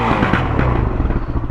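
A Husqvarna SM 610 motorcycle with an aftermarket exhaust revs up close and loud, giving a steady, thick rumble with a slight rise in pitch.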